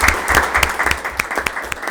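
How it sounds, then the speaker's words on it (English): Audience applause fills a board of education meeting room, a steady patter of many hands clapping fairly close, with no speech over it. "Let's give her a round of applause."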